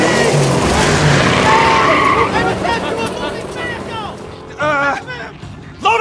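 A car screeches away in the Tales from the Borderlands video game, with long, wavering tire squeals under a revving engine, loud and close, then a sharper final squeal as voices shout over the getaway.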